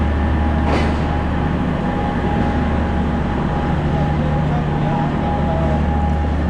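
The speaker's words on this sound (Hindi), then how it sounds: "आप देख रहे हैं 8 डाउन तेज़गाम एक्सप्रेस का एक प्लेसमेंट" An 8 Down Tezgam Express rake rumbles while being placed at a station platform, a continuous loud low drone with a steady tonal whine and a brief hiss near the start.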